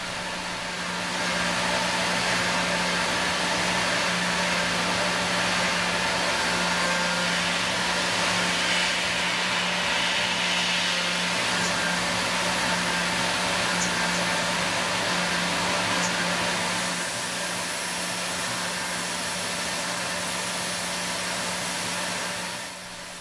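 A CNC mill cuts a V8 engine cylinder head with tool 31, clearing leftover material in a steady, dense whine and hiss with a faint tonal hum underneath, loud and continuous with no voices.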